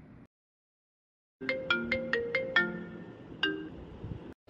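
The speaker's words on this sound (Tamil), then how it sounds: "ராஜேஷ் தம்பி தான் ஃபோன் பண்றாரு" A mobile phone rings with an incoming call, playing a quick run of bright electronic tones followed by a sustained melodic phrase, loud and close after a short silence.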